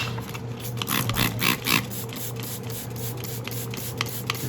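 Cotton swab or cloth rubbed with alcohol over orchid leaves to kill bugs, giving close, soft, repeated scrubbing strokes with a slightly pulsing rhythm, with no talking.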